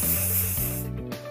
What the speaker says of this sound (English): spraying my hand